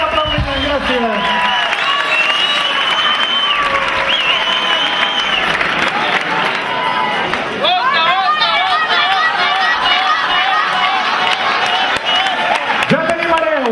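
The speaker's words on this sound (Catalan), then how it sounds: "Fort aplaudiment, gràcies." Audience applause rings out at the 2009 Llançà pubillatge ceremony for Marc Fàbrega of the Tercicor dance group, steady clapping held for the whole stretch beneath strong tonal voices or music.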